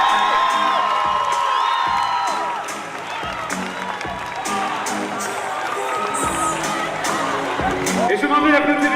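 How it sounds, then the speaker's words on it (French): A crowd at a Miss Guadeloupe pageant appearance claps, cheers and whoops loudly, with a voice over a microphone and bursts of shouting rising and falling throughout. "je m'en prie d'applaudir bien fort"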